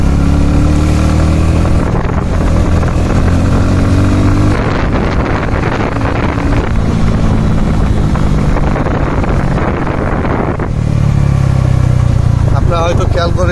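An ABD motorcycle rides in third gear, producing a loud, continuous engine drone mixed with heavy wind rush that swells and eases slightly over time.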